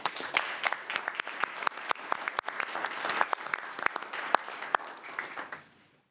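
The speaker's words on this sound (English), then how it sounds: "Please join me in giving them all another round of applause." A round of applause at a community redevelopment agency meeting: many hands clapping in a steady, crisp patter with sharper individual claps standing out, moderately distant, then fading out near the end.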